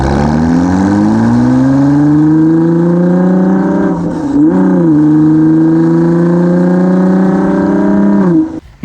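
A Ford GT's EcoBoost V6 engine revs up loudly and steadily, dips briefly midway, then climbs again before cutting off abruptly.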